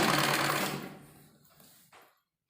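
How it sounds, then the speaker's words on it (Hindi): A sewing machine stitches lining fabric for palazzo pants, running in a fast steady whir for under a second before stopping, followed by a faint click and then silence. "और सिलाई करेंगे आसन की।"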